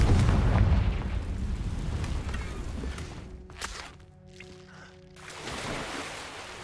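A Confringo fire-blast spell exploding in the game Hogwarts Legacy, a heavy rumbling boom that is loudest at the start, then fades into scattered crackles and a quieter swell of noise.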